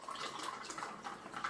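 Apple cider poured into a glass, a soft continuous liquid splash and trickle filling the glass, close and fairly faint, with no talking.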